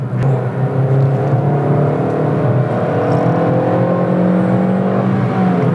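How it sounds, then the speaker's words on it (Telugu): Honda Amaze car with an i-VTEC petrol engine revving above 4000 RPM, a loud sustained in-cabin drone with engine tones climbing steadily over road and wind noise, no voices. "4000 RPM దాటిన తర్వాత ఇది ఒక సూపర్ కార్ సౌండ్ చేసినట్టు చేస్తుంది కార్ అయితే."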